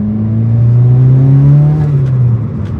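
Turbocharged Mitsubishi Evo with a SOHC 4G93 engine on stock internals, revving hard on a dyno: a loud, close engine note rises, holds a strained high pitch for about two seconds, then drops off abruptly.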